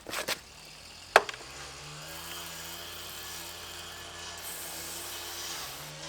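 A neighbor's power saw, not a chainsaw, drones steadily in the distance throughout, a low continuous whine with a sharp knock near the start, heard outdoors while a car is being pressure washed.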